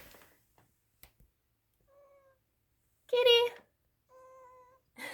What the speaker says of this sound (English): Say hello to Mr. Kitty.